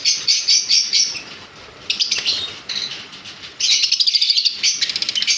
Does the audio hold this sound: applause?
no